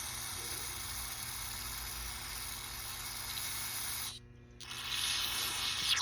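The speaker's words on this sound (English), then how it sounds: "You should pretty much spray any orifice on the carb and any surface." Close, continuous aerosol cleaner spraying into a snowmobile carburetor hisses loudly, stops briefly, then resumes even stronger.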